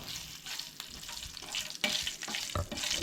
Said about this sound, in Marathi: आनी तेच्या मागीर हे सगळें मिक्स करून घेवंक जाय.